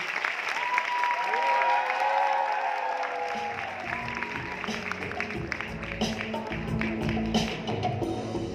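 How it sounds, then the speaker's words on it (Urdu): Audience clapping at a national readers conference welcomes a speaker to the stage, a steady wash of applause beneath a sustained musical tone early on, continuing at moderate level. "آپ کی بھرپور تالیوں میں میں اسٹیج پر دعوت دینا چاہوں گا علی محمد خان کو"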